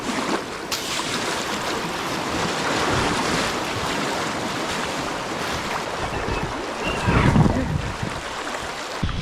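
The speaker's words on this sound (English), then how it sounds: "Looks like we got some rapids." A kayak on an Alaskan river pushes through rapids carrying ice, with steady rushing, churning water and wind noise up close, plus a brief louder splash near the end.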